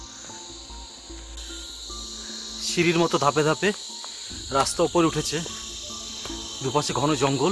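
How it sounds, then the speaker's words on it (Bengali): Crickets chirp steadily in dense forest on the Thambri Kund trek above Munsiyari, a continuous high, shrill trill running throughout while someone talks over it in bursts. "আর সেই ঝিঝির ডাক, যারা জঙ্গলের নিজস্ব আওয়াজ।"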